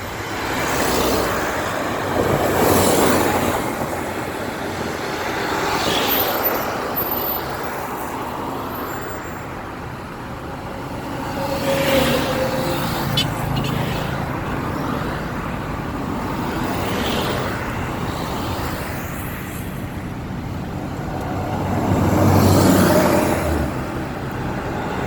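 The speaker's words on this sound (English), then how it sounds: "That's one of the buses right there." Buses and cars pass along Independence Avenue in central Accra, Ghana, a steady loud traffic wash with engines rising and fading as vehicles go by.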